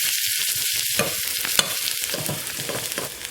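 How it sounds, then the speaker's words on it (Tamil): Onions sauté in a pan for a Tamil keerai kadaiyal, with close sizzling frying and a series of quick scraping stirs and clicks of the spoon against the pan, no talk. "நல்லா வதக்கிக்கணும்."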